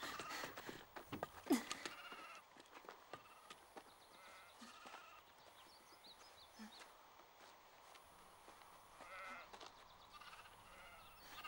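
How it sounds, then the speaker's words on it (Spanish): Sheep bleat on and off at a farm in a Western film, with footsteps and movement around them and a faint voice at times; the calls are moderate in level and spread across the scene. "Me parece que esas ovejas la tienen dominada."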